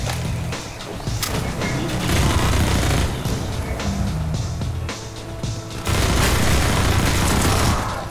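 An automated turret in Half-Life 2: Episode Two (MMod) keeps firing as dense rapid gunfire mixed with booms and crashes throughout, loud and close, with a brief lull near 5.8 s before the shooting surges again.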